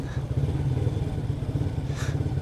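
A motorcycle idling close by with a steady low exhaust rumble while the throttle is blipped lightly, one brief higher surge near the end.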